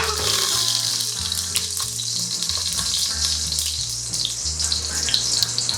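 Tofu frying in a covered Dutch oven for a stir fry, a loud, dense, continuous close sizzle with bright hiss throughout and faint low hum beneath, no speech.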